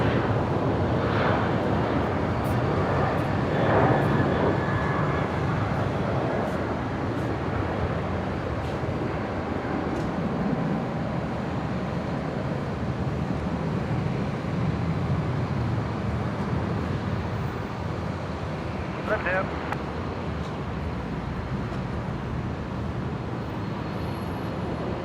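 A Velocity jet airliner taking off from runway 01 right at Brisbane International Airport, heard as a sustained broadband engine roar at a distance, steady and fairly loud for the full span with wind rumble underneath.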